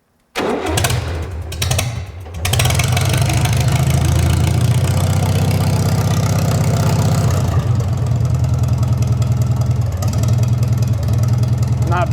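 Farmall 404 tractor cranking and catching, then idling without a muffler and with the hood off, a loud steady rough chugging that barely changes after it fires.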